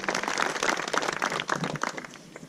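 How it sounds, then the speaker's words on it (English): Audience clapping at a high school swim team banquet, a short burst of many hands applauding together, fairly loud and close, tapering slightly toward the end. "So give yourselves a round of applause for that."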